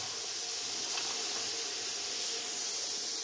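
A Bestarc CUT55XP plasma cutter cuts a hole in metal, giving a steady, loud, close hiss that runs unbroken throughout.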